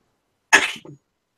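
One short, sharp sneeze close by, a quick burst followed by a brief softer tail, then silence.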